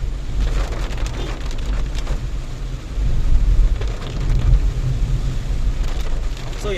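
Heavy rain pours on the Sirsi–Yallapur route around a Renault Triber car, a dense, steady roar of drops drumming on surfaces that swells slightly midway, loud and close, with no talking.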